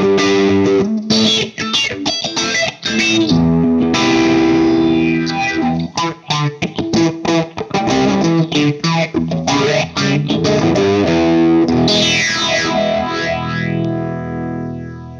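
Morley Volume Phaser pedal with its feedback circuit engaged for harmonic emphasis, sweeping a loud, gooey distorted guitar through choppy strummed chords and sustained notes, with resonant whooshing sweeps building toward the end and no talking.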